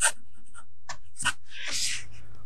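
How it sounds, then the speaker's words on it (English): A fountain pen with a soft fine nib scratches across 20-pound copy paper in short strokes with pauses, then one longer continuous stroke, close and fairly quiet. "The last writing sample is done on 20-pound copy paper."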